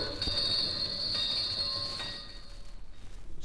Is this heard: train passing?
yes